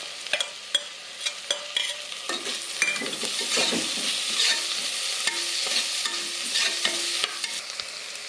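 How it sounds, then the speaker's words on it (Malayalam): Onions, green chillies, ginger and garlic sauté in a pan for a rationing-rice biryani, a steady sizzle broken by repeated scraping stirs and a few light clinks of a spoon, with no talking. "സവോളയും പച്ചമുളകും നല്ലോണം ഒന്ന് വഴറ്റിയിട്ട് ബാക്കി സാധനം ഇടാം"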